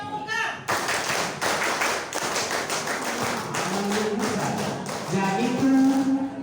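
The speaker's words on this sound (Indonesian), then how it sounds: "2 kali tepuk pramuka." An assembly of Pramuka scouts performs the scout clap in unison, a loud, crisp series of rhythmic hand claps and taps that runs for several seconds, with voices mixed in.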